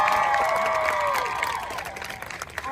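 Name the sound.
audience applause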